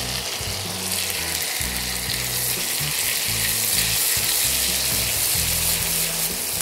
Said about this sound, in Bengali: কাঁচা গন্ধটা যাওয়া অবধি একটু ভেজে নেবে